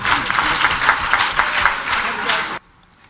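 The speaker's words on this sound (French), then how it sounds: "Et je vais vous demander d'applaudir pour vous-même." At a Senegalese teachers' network gathering, an audience claps loudly and steadily for about two and a half seconds before the applause cuts off abruptly into near silence.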